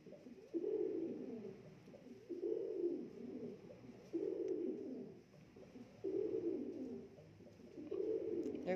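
A trained laughingthrush sings in repeated phrases, five bursts of warbling, cooing notes with short pauses between them, fairly close and steady in loudness, with no talking.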